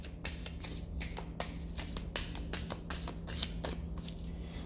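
A deck of tarot cards is shuffled close up, a run of quick riffling bursts and soft snaps repeating over a faint steady hum, with no talking.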